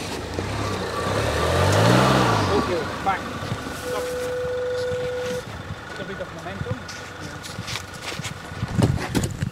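2013 Land Rover LR2 engine revving as it climbs a slick, icy snow-covered hill, rising and falling engine tone that peaks early and then eases, followed by intermittent knocks and a brief beep, with people talking over it.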